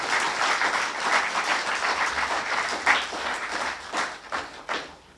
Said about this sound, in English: we can give her a round of applause for that.